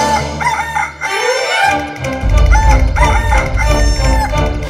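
A rooster crows loudly and close several times in succession, drawn-out calls rising and falling over a dense layer of background sound.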